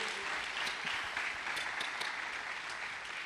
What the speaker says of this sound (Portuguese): Você pode aplaudir o Senhor pela vida dele